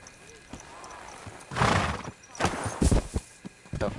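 A horse in Kingdom Come: Deliverance 2 whinnies loudly and then clops its hooves in a few sharp, close thumps, with a person's voice talking over part of the sound.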